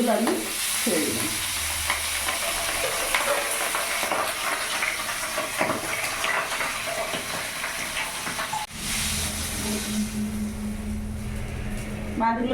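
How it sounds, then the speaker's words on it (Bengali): Remaining pabda fish fry in hot oil, giving a continuous close sizzle and crackle. A voice talks over it for much of the time, and the sizzle drops briefly before resuming steadily. "বাদ বাকি মাছগুলো আমি ছেড়ে দিলাম।"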